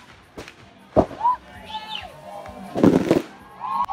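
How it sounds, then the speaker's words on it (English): Fireworks closing an outdoor sports awards night in Kenya: scattered booming bursts and crackles at a distance, with whistling rising shells and a lively crowd murmuring and cheering underneath. "a fireworks display closed down the memorable night"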